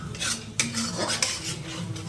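A utensil scrapes and stirs paneer around a metal wok over low heat in slow, steady strokes, with two sharper clinks of metal against the pan.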